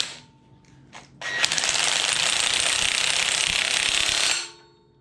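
Tightening the pinion nut during a Dana 60 axle gear install: a few light mechanical clicks, then one loud continuous ratcheting burst lasting about three seconds, heard up close before it stops.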